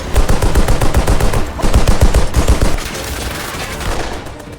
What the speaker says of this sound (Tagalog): sumakay si Prendergast sa isang truck at ginamit ang machine gun nito